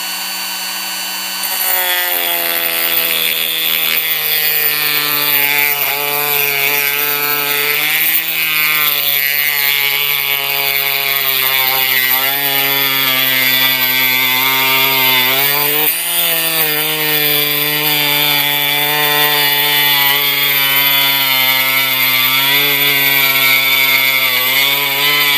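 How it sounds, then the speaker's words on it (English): A Dremel rotary wheel grinds down the electrode of an ordinary spark plug in one loud, continuous high-pitched whine with a rough, buzzing edge, sustained for over twenty seconds without pause or voices. "I'm just going to use this Dremel wheel, and we're going to file this back."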